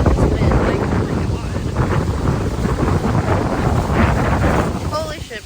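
Strong gusts buffet the microphone at a windy campsite, a loud continuous low rumble that swells and eases, with a voice speaking briefly over it.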